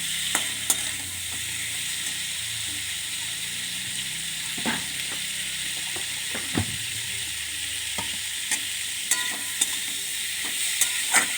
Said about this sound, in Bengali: কষানো হয়ে গেছে, তেল ছেড়ে আছে, আর একটু নাড়ি